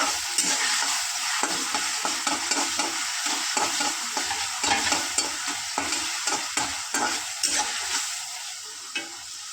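Chopped tomatoes stirred and frying in a pan for egg fried rice, a steady close sizzle broken by frequent scraping stir strokes, with no talking.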